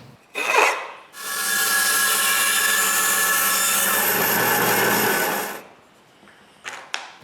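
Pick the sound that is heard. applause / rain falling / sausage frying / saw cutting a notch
saw cutting a notch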